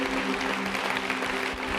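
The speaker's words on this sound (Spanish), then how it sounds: "Un aplauso a Dios" Congregation applauding God at an Easter resurrection church service, steady continuous clapping with a low hum underneath, lasting the whole moment.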